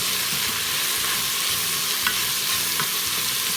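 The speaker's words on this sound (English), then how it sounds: "Now we're just going to saute the bacon and the onions together." Bacon and onions sauté in a pressure cooker with a steady, close sizzle and a few soft stirring scrapes, with no talking.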